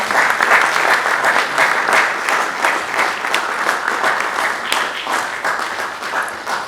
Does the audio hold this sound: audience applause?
yes